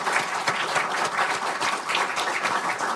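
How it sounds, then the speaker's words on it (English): An audience at a conference panel on Africa's debt crisis and credit ratings applauds the ministers, a full, continuous round of clapping from many hands, fairly loud and even throughout. "And a round of applause for the ministers who have shared."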